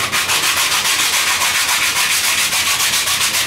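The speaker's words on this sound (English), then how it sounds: "I can just wrap the sandpaper in here, and it'll give me the nice shape that I'm looking for" Thin sandpaper wrapped around a flat block rasps over winglets in quick, steady back-and-forth strokes, close and loud with no pauses.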